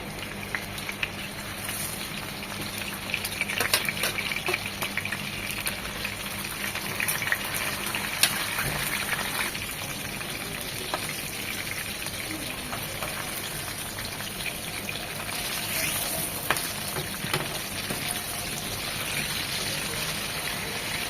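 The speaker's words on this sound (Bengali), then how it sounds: "কাতলা মাছটা আর একটু বেশি ভাজবো" Katla fish frying in oil spits and crackles in a continuous, dense sizzle that holds at a moderate level with no voices.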